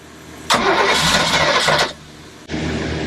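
A boat engine cranks with a loud churning whir for over a second, cuts out, then starts cranking again, heard up close.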